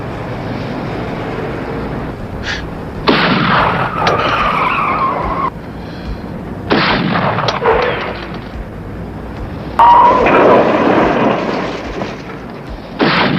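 Gunfire from a shooter on a rooftop above a street, loud bursts of shots in several separated clusters, harsh and booming with dense crackling, interspersed with brief quieter gaps.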